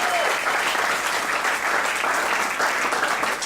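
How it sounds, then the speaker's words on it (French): A church congregation breaks into steady, dense applause that fills the whole moment, loud and close with a broad wash of many hands clapping at once. "Est-ce que nous pouvons acclamer cette parole?"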